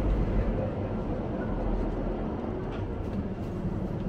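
An Irish Rail Mark IV diesel train runs with a dense, steady low rumble and rattle heard from on board, continuous and moderately loud throughout.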